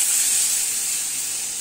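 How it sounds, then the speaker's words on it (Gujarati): Buttermilk poured into a hot pan for tempering hisses and sizzles loudly and steadily, a close, bright steamy spray of sound fading slightly over its short length. "આ રીતે આપણે છાશ વઘારી દેવાની, છાશ વઘાર્યા બાદ આપણે હલાવતા રહેવાનું"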